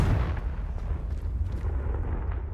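Confringo blasting spell from Hogwarts Legacy going off as a deep, sustained rumbling explosion that dominates the whole stretch, loud and heavy in the low end with a few crackling bursts on top and no talk.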